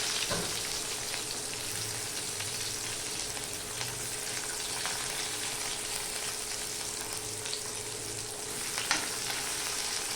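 Steady sizzling of onions frying in hot oil, continuous and fairly close, with occasional faint stirring scrapes and no talking.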